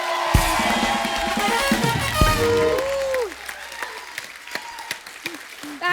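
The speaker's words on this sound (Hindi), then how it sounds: "जोरदार तालियां हो जाए एक बार" A television comedy-show studio audience applauds as actresses are welcomed onstage, with a burst of clapping over music and a host talking, then thinning to scattered claps.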